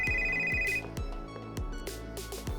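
A telephone ringtone plays near and clear, a repeating electronic melody with sharp plucked-like notes in a steady rhythm, alone without voices.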